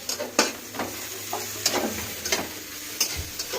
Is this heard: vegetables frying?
yes